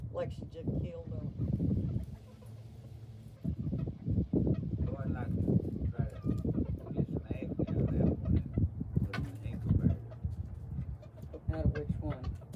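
Chickens and a rooster clucking in a backyard chicken yard, with scattered bird calls close by and nearly constant people talking over them throughout.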